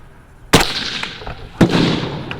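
Two loud sniper rifle shots at a tactical games sniper challenge in Alabama, fired at a target 605 away, each a sharp close crack with a ringing tail, about a second apart.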